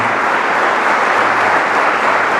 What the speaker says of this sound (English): a resounding round of applause for Swamiji